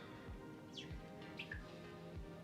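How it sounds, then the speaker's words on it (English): A few faint, brief bird chirps sound in the background of a quiet room during a live podcast recording, spaced irregularly over a soft hum with regular low thumps and no talking. "Do you have a fucking bird, or is that a background noise?"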